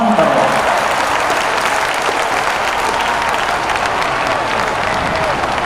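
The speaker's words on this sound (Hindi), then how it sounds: "एक बार जोरदार ताली बजा के होगा सम्मान करो।" An audience at a Chhattisgarhi film festival in Jharkhand applauds loudly, with dense, sustained clapping that stays steady for several seconds and fills the hall.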